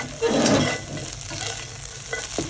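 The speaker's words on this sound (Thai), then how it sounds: "เอาข้าว กับไข่ผัดให้แห้ง" Rice and egg being stir-fried dry in a pan for fried rice with five-colour beans and Job's tears: a brief burst of close sizzling and a scraping stir, then a softer steady frying hiss with a few light knocks.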